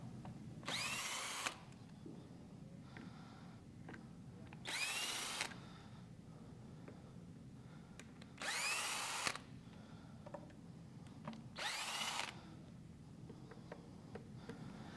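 A power drill backs out the screws holding a speaker driver in its cabinet, four quiet bursts of whirring, each about a second long, spaced a few seconds apart with handling noise between.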